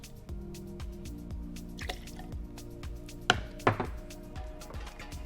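Fresh lime juice is poured into a cocktail shaker while making a Midori drink, heard as close, quiet liquid trickles and drips, with a couple of sharper clinks near the end.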